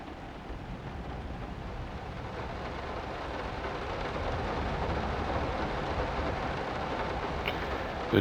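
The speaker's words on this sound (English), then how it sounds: "The rain is really intense out there." Intense rain in the horror video game Layers of Fear, a steady, dense, loud roar of downpour that holds evenly throughout with no distinct thunderclap and no voices.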